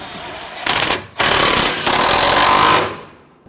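Two loud, close bursts from an impact wrench snugging a fuel tank strap bolt on a 2007-2014 Cadillac Escalade 6.2L V8, first a short rattling burst, then a longer sustained hammering run that cuts off and rings down.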